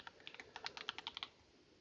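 Quick, light keystrokes on a computer keyboard, a dozen or so clicks in a fast uneven run, faint and close, then stopping, with no voices.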